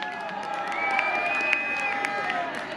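Audience at a King's Night concert in Assen applauding and cheering for a band member, a steady wash of clapping and crowd noise held at an even level throughout.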